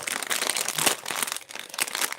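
Plastic packaging bag crinkling continuously while a gift is unwrapped, with dense, close rustling and crackling in uneven bursts and no talking.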